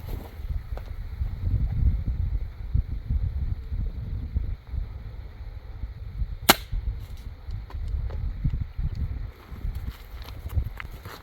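A Mini Striker crossbow is shot at a target 30 yards out, giving one sharp snap partway through, standing out against steady outdoor wind noise.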